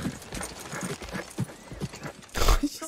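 A horse's hooves clip-clop at a steady walking rhythm in a Game of Thrones episode, closing with a louder burst that may be a snort or whinny.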